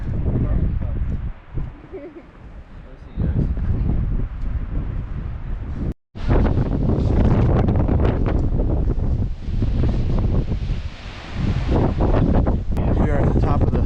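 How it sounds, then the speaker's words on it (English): Strong, steady wind buffets the microphone atop Lost Mine Trail in Big Bend National Park, a loud, continuous roar with brief gusting dips and one short dropout midway. "It's a little bit windy."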